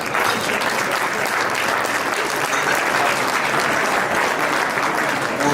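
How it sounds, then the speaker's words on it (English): A dinner audience at a Lincoln Reagan Dinner gives a loud, sustained round of applause. Dense clapping from a full room fills the whole stretch at an even level. "I want you to have a round of applause one more time."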